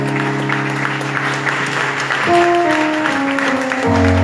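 A church congregation at a Sunday service in Côte d'Ivoire applauds steadily and loudly, the clapping running throughout over sustained keyboard or organ chords that shift pitch partway through.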